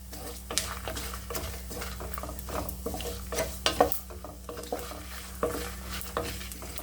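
Chillies and tamarind fry in oil for a spicy radish pachadi, a steady close sizzle broken by repeated scrapes and clatters of a spoon stirring against the pan.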